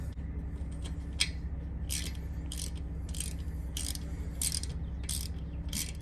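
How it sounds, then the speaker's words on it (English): A T45 Torx bolt is ratcheted loose from a Harley Sportster cylinder head, with repeated bursts of clicking pawl ticks at a steady rhythm over a constant low hum, close and moderately loud. "you want to remove these two bolts from the cylinder heads, and it is a T45 Torx"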